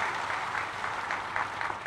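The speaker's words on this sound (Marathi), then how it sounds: "जोरात टाळ्या वाजल्या पाहिजे उदय भाऊंसाठी" An audience at a political speaking event claps steadily for Uday Sangle, a dense, fairly loud wash of applause that holds for the full two seconds with no voices over it.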